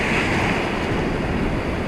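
Ocean surf rolls in a steady, loud broadband wash along a shoreline, with wind buffeting the microphone throughout and no voices over it.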